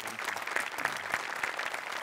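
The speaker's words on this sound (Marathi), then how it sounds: "तुझ्यासाठी एकदा स्पेशल टाळ्या" A studio audience at a Marathi comedy show applauds with steady, fairly soft, even clapping throughout, with a faint murmur behind it.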